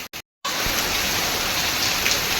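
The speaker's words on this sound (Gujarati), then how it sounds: "ફરી પાછો વરસાદ ચાલુ થઈ ગયો છે" Steady rain pours down in a continuous, even hiss after a brief moment of near silence at the start.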